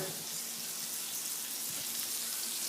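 Tap water runs steadily into a bowl with blood in it in a kitchen sink, making a continuous close hiss and splash with no speech.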